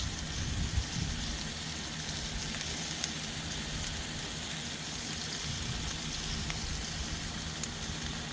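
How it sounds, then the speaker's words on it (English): Steady, hissing sizzle of onions frying in hot oil, continuous and fairly even with a few faint pops. "We'll let them sizzle a little bit."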